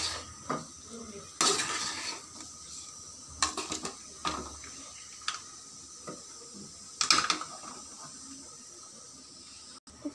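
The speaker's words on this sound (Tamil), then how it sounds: "இப்போ நல்லா வதக்கிக்கலாம், கலந்துக்கலாம். நல்லா மிக்ஸ் பண்ணிடணும்." Cassava poriyal is stirred and sautéed in a pan, with intermittent scraping and clanks of a ladle against metal over a soft hiss, the bursts coming irregularly and fairly close.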